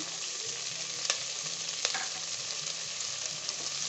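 Egg idli pieces stir-frying with vegetables, turmeric and spices in a pan, an even, moderate sizzle with a couple of light utensil taps, close and without talk.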